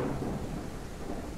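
Heavy thunder rumbles over steady rain in a ranch simulation game, a loud, continuous low roll with a dense hiss of falling rain and no voices.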